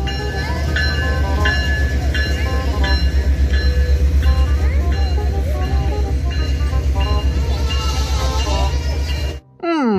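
A toy train runs steadily with rhythmic clacking and whirring, bright chiming tones on top, continuous and fairly loud before stopping abruptly near the end.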